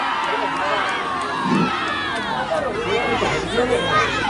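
A big crowd roars and cheers at a football quarter-final between Porlis and Pomsa, a steady swelling din of many voices with whistles and shouts, and a commentator talks over it.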